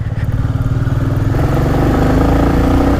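A 2022 Royal Enfield Classic 350 with its 350cc single-cylinder engine runs close by, giving a loud, steady thump of rapid, even firing pulses with a low mechanical clatter, rising slightly in pitch as it pulls.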